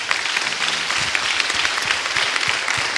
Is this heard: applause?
yes